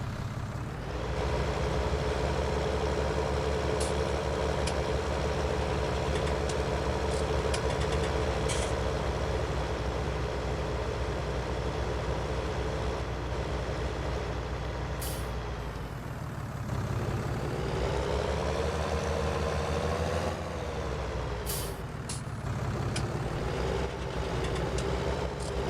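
Tuned engine with upgraded exhaust and turbo on a vehicle in Farming Simulator 19 drones steadily at a loud, constant level, with brief hissing bursts and a dip and shift in pitch midway; no speech.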